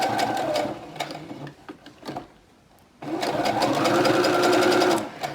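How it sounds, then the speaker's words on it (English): A sewing machine stitches binding onto fabric in fast, loud mechanical bursts: a run of whirring stitches, a brief pause with a few soft clicks, then another steady burst that stops abruptly. "So you lay the edge of your binding against the edge and start sewing."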